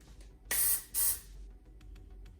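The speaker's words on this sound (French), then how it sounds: "Donc nous allons commencer par le spray texture" Two short, close hisses of Andrew Fitzsimons Primark texture hair spray from an aerosol can, each about half a second, with a brief pause between, followed by faint rustling.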